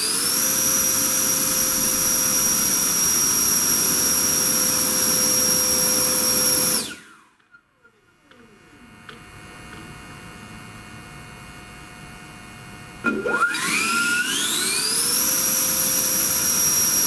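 Electric ducted fan on an RC F-16 jet running a thrust test on a 12S system near 50 volts: a loud, steady high-pitched whine that cuts out abruptly, winds down into a low hum, then spools back up to full roar. No one speaks.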